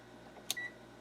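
Short electronic beep from test equipment on a bench where an RCA R52 radio with a 45 tube is being measured, a single brief high tone followed by a fainter sustained tone, alone in a quiet room.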